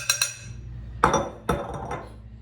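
Ham and cheese quiche mixture being put into a quiche dish, giving a few sharp clinks and knocks of a utensil against the dish, spaced irregularly and close by, with no talking.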